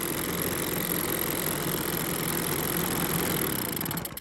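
A Husqvarna 130BT backpack leaf blower with an aftermarket carburetor idles steadily, a close, continuous small two-stroke engine drone that holds an even level throughout and fades slightly at the end.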